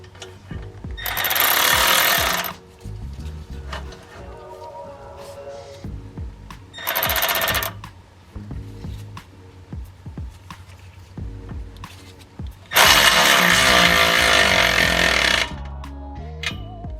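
Ratcheting tool bursts tightening exhaust bolts on a Y-pipe install under an Infiniti G37, three loud broadband bursts of about one to three seconds each, separated by quieter clanks and handling noise.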